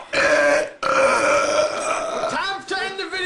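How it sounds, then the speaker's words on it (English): Loud, prolonged burps from people, one long belch broken by a brief pause and then a second, rougher burp trailing off, very close and raw. "We've had some great burping tonight from Burp Professionals."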